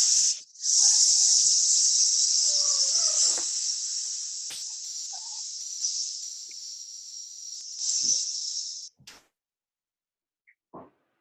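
A slow, steady hissing exhale through the teeth in a 4-in, 12-out breathing exercise, one long continuous sibilant stream of about eight seconds, close and fairly loud, tapering off into silence with a couple of faint breaths after.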